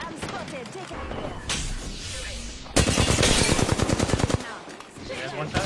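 Rapid bursts of ray gun fire in a video game, a fast stream of repeated electronic shots that runs loud for over a second amid game noise and other fire.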